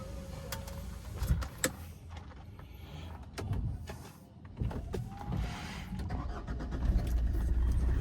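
Power-folding side mirror on a car whirring open and shut, a few short motor hums with clicks and thumps amid faint cabin noise, no speech.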